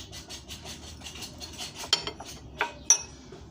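A spoon stirs cake batter in a bowl with steady back-and-forth scraping strokes and a few sharper clinks against the side, up close and with no voices.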